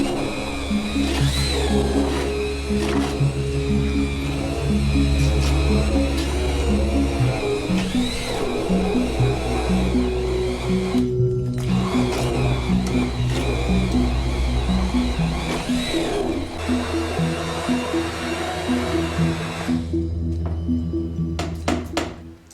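Blender whirs loudly and steadily for over twenty seconds as it shreds paper and water into pulp for handmade paper, its motor drone rough and churning with brief dips in pitch.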